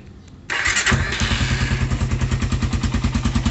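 A Suzuki Raider 150 motorcycle fitted with a stainless exhaust fires up after a short quiet moment, then settles into a loud, close idle with a steady, rapid exhaust pulse and some mechanical clatter.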